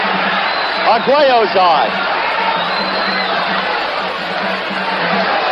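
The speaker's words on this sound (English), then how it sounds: "The crowd picks up" A boxing arena crowd cheers and roars as the action picks up in the round, with a surge of shouting and whoops under a commentator's voice.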